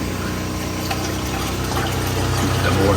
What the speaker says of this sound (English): The water's coming through there.